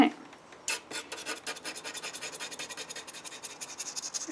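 A quill pen scratches across paper while drawing, a close, dry rasping made of quick repeated strokes that starts after a short pause and carries on steadily to the end, with no talking.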